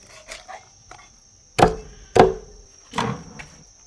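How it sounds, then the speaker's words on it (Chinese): A cleaver chops through a whole chicken in a kitchen while ingredients are prepared for Buddha Jumps Over the Wall: three heavy, sharp thwacks ring out after a few lighter taps, close and clear with no talking. "鸡也给它劈开"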